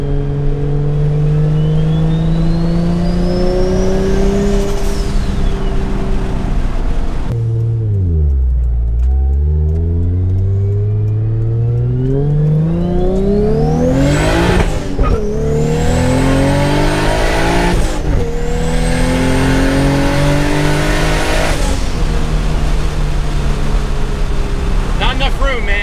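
A turbocharged Toyota Supra making about 650 hp at the wheels on 15 pounds of boost accelerates hard, its engine note climbing loudly through several gears with sharp drops at each shift, close and dominant throughout.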